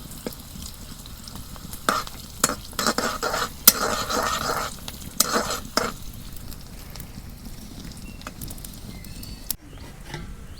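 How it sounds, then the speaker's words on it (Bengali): Taki fish frying in hot mustard oil in a village-style pan gives a steady, close crackling sizzle with scattered sharper pops and occasional utensil scrapes, ending in a brief quieter moment. "এখন আমি মাছগুলো বাগার দিলাম"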